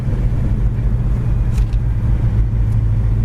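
A 1968 Pontiac GTO convertible drives along with a steady, loud low engine rumble and road noise, close by and continuous with no talk.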